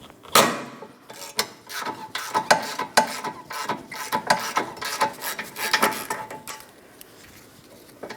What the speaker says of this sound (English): Just going to use a longer socket down here.